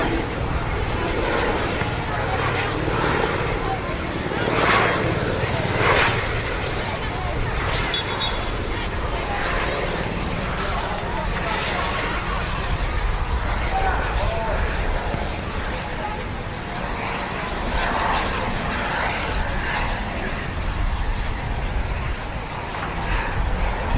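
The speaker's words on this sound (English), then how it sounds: "Hear a helicopter going overhead." A helicopter passes overhead during a 2018 senior men's football match between Bayside and South Melbourne, a steady low engine rumble mixed with wind buffeting and crowd and commentary voices throughout.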